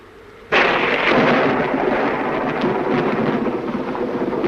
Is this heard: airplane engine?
no